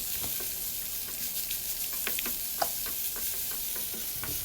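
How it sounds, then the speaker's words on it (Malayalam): Egg snack masala sautés in a pan with pepper powder and coriander leaves, giving a steady close sizzle broken by light ticks and scrapes of stirring throughout. "രസം കുരുമുളക് പൊടിയും മല്ലിച്ചപ്പും ഒക്കെ ഇട്ടുകൊണ്ട് നമ്മളൊന്ന് വഴറ്റിക്കണം"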